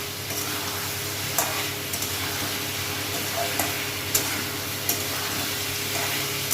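Boal fish curry spices, with salt and Kashmiri chilli powder, sautéing in a pan: a steady broadband sizzle with scattered clicks of stirring, close and alone.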